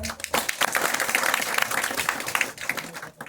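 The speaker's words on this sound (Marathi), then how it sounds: "चला एकदा टाळ्या हो द्या बरा" An audience claps together in a burst of applause, a dense patter of hands that tapers briefly and picks up again.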